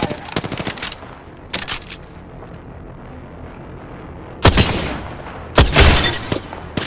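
Incoming gunfire in a video game: rapid bursts of automatic shots come in separate volleys with quieter gaps, some loud and close, others softer, over a low background.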